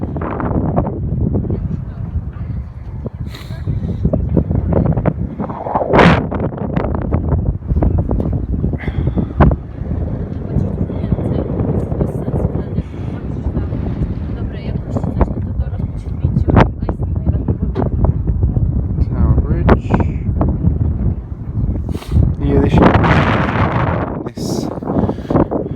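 Strong wind on a bridge buffets the microphone in loud, continuous gusts while people talk underneath, with occasional sharper blasts.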